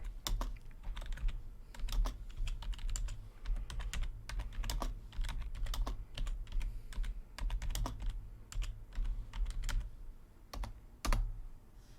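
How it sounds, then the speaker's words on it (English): Someone types on a computer keyboard during a Marvel Strike Force alliance war, producing irregular bursts of close, crisp key clicks with brief pauses, and no voices. "I was typing to myself apparently there."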